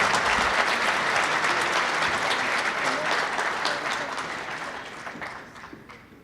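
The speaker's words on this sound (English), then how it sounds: "So let's have a round of applause for Brian Micucci." Audience at a Leominster football hall of fame induction ceremony claps loudly, a dense round of applause that gradually tapers off toward the end.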